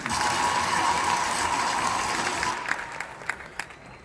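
A crowd claps loudly and steadily, then the applause thins out into a few scattered, fading claps.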